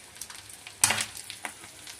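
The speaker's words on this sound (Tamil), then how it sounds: "முட்டையை நறுக்கி சிக்கன் பொடி போட்டு இப்படி எண்ணெயில் போட்டு பரட்டிடுவேன்" Sliced egg sprinkled with chicken powder sizzles as it goes into hot oil, a soft steady crackle with a sharper burst of frying as it hits the pan, close and fairly quiet.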